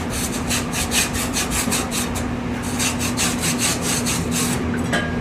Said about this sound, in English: get up underneath the chain, scrape along it, pulling out any of the soot that's left behind